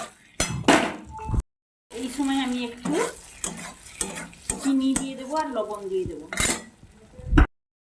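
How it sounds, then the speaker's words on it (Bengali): Paneer is stirred and sautéed in spiced oil, with a spoon scraping and clinking in the pan over a sizzle. A voice sounds over the cooking, and there are short breaks of silence. "এবার আমি পনিরগুলো দিয়ে দেব দিয়ে একটু কষিয়ে নেবো"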